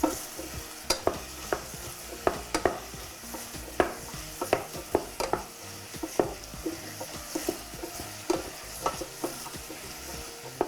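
Vegetables for a creamy soup sauté in a pan, a steady sizzle broken by frequent sharp scrapes and clicks of a spoon stirring against the pan, close and alone.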